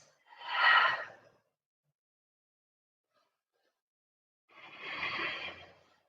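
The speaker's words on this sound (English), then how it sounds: "Couple of breaths." Deep breathing during a power vinyasa yoga class: two slow, breathy exhalations a few seconds apart, close and clear with silence between them and no talk.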